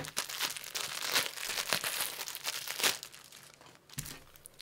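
Crinkly plastic packaging bag crackles and crumples continuously up close as it is pried open, a busy rustle with brief louder crunches and no talking.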